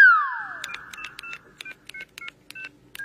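A mobile phone keypad dials a number, producing a rapid run of about a dozen short, clear touch-tone beeps in an uneven rhythm, preceded by a brief falling electronic tone, with no talking.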